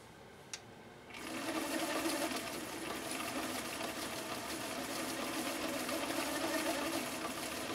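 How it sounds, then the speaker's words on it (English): A restored Viking 6370 sewing machine runs a double overlock stitch, starting after a brief quiet click and then whirring steadily with a fast, even mechanical rhythm, close and moderately loud. "now we're going to do cam B, the first stitch, which is called a double overlock"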